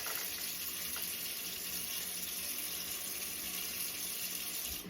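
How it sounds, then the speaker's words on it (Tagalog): Steady rush of water pouring from a tap, continuous and fairly loud, with a broad hissing spray and no voices. "Nagbukas lang ako ng tubig"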